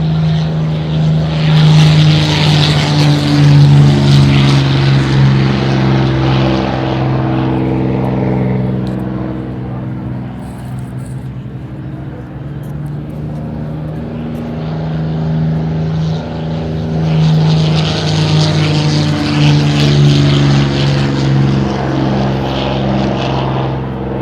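A Spitfire warbird propeller aircraft at the Temora airshow roars loudly overhead, swelling, easing off, then building again in a second close pass, with a steady deep engine drone throughout.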